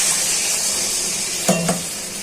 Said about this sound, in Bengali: বোনেরা চিংড়ি মাছটা দিয়ে এটা ভালো করে ভাজা হয়ে গেছে